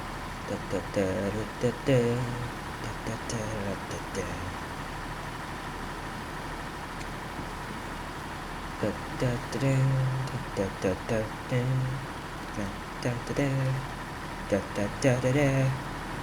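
A truck engine in the SnowRunner video game hums steadily as it drives through a field, with periodic louder engine surges under intermittent talking.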